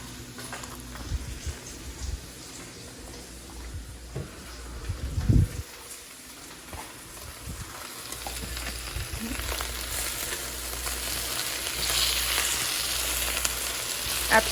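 Spinach fries in a breakfast stir-fry, a soft hissing sizzle close by with occasional stirring clatters and scrapes, the sizzle building louder toward the end.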